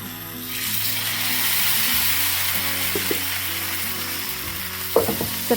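Dosa batter hitting a hot griddle and sizzling loudly and steadily, a close, continuous frying hiss that fades slightly toward the end amid a few light clinks.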